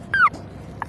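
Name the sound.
dog whimpering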